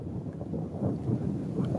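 Rumbling thunder from close lightning strikes beneath a supercell storm, a continuous low, loud roar with wind buffeting the microphone and no clear separate cracks.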